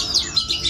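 A songbird named Shogun, kept as a competition bird, gives quick high chirps and short tweets in a brief, bright burst, close and fairly loud with no talking.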